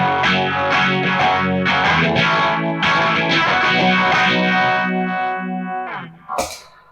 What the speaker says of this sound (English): That's the chorus. phaser.